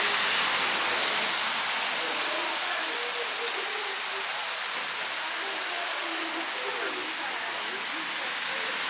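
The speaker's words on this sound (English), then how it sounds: "Rain, big rain, you know." Heavy rain falls steadily in sunshine at a high-elevation spot in Mandeville, Jamaica, a dense, even hiss that holds without a break throughout.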